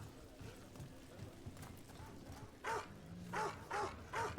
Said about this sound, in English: I have to pet the dog.